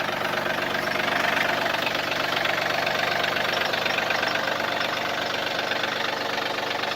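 A John Deere 4210 compact tractor's clean 3-cylinder Yanmar diesel idles steadily and close by, a continuous even chug with a slight knock, and no talk over it.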